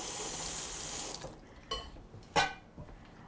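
A kitchen faucet runs steadily while a lemon is rinsed under it, then shuts off, leaving a few light knocks and clatters of kitchenware in a quiet room.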